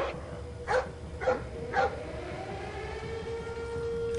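Three short barks from a dog in the stealth game Splinter Cell: Blacklist, evenly spaced over a steady droning background hum, no talking.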